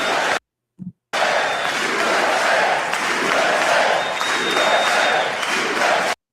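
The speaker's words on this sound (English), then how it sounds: "A USA chant broke out in the crowd." A crowd at the State of the Union address chants USA, a loud, roaring mass of voices rising after a brief silent gap and holding steady, with rhythmic shouted swells throughout.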